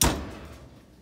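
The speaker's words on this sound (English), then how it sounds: "Close the door." An oven door swings shut with a single soft thud at the start, fading quickly into a quiet room tone.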